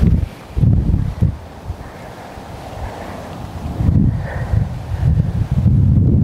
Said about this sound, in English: That wind is smacking in the face right now.